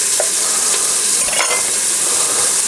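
Bite-size spiral-cut ham pieces being stirred into onions frying in a pan, giving a steady loud close sizzle with bright hiss throughout and faint stirring scrapes.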